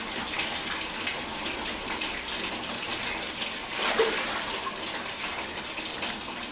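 Water gushes steadily out of an electrical glove testing machine as it is emptied, a loud continuous rushing flow with a brief surge partway through.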